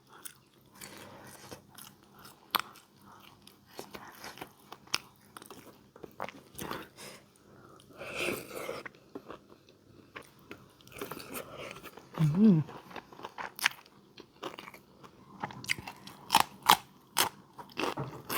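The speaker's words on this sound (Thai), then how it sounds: "กินลูกกระเจี๊ยบแบบสดนะขับไทยดีกว่าแบบต้มอีก" Someone bites and chews fresh raw okra, with close, intermittent crunches and moist chewing, while someone talks at times between bites.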